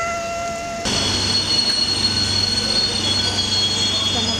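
Madrid metro train running underground, a steady loud rumble with a high-pitched wheel squeal and hum that kicks in abruptly after a quieter opening second.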